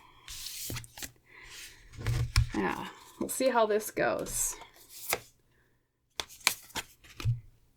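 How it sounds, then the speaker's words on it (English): Tarot cards shuffled by hand, with quick papery riffles and taps in bursts, heard close under a person talking. "Let's clear the board for week 2 for pile 1. We will shuffle everything."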